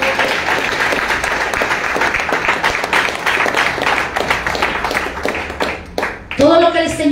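Church congregation clapping hard during a Spanish-language worship service, dense rhythmic claps filling the room steadily, with a voice rising over the end.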